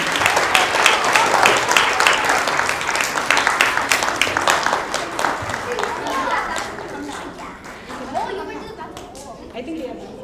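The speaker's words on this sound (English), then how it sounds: "Let's give a big round of applause to all our teachers." Dense audience applause and cheering at an annual school event honoring teachers, loud and sustained before gradually thinning, with crowd chatter and children's voices mixed in.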